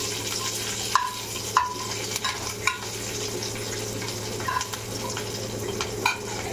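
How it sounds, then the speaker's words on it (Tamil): Masala paste sizzles in hot oil in a nonstick pan, with curry leaves already fried, while a spoon stirs it. A continuous close frying hiss runs under periodic scraping clinks from the stirring, and no one talks. "இந்த மசாலா பேஸ்ட்டை நம்ம அதில் போட்டுட்டு நல்லா வதக்கி விட்டுணும்"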